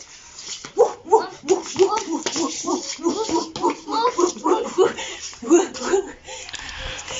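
Children and adults in a group game imitate a dog, a chorus of voiced barks and yips in quick irregular bursts, mixed with giggles and laughter.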